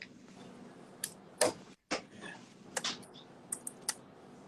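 A few soft keyboard clicks and taps, scattered and irregular, close by against a quiet room background.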